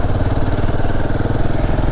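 A Royal Enfield Himalayan 450 motorcycle labouring up a hill road in Jharkhand, its engine thrumming loud and close with a steady, rapid low pulse throughout.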